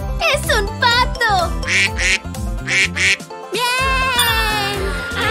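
A duck quacks repeatedly in a children's educational cartoon, the short bright calls popping out over a bouncy musical backing and an excited child-like voice.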